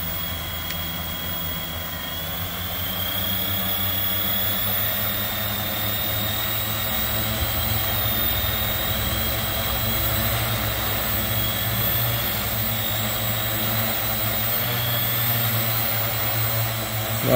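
Motors and propellers of a Redback Spider drone built on an EDU-650 frame whine steadily and loudly, their pitch rising very slowly as they accelerate, with a continuous airy hum underneath.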